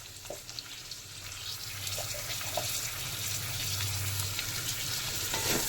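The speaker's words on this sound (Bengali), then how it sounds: "ক্যাপসিকাম দিয়ে দিলাম, একটু নাড়াচাড়া করে" Potatoes fry with capsicum in a pan, a soft, continuous crackle with a few stirring clicks and a low hum underneath, fairly quiet and without speech.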